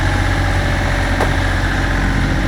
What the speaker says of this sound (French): j'espère surtout pouvoir couper le moteur à un moment ou à un autre